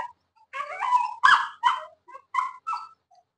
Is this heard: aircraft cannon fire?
no